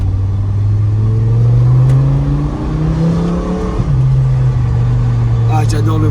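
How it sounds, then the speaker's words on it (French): V10 engine of a 1010 hp Lamborghini Huracan rumbling and revving up, a loud sustained drone that rises steadily, drops briefly and climbs again, with speech mixed in over it. "Ah, j'adore le bruit d'un V10."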